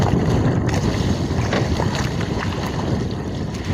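Big waves buffeting a small fishing boat at sea, a dense roaring wash of water and wind noise, continuous and close with surging rises and no talk.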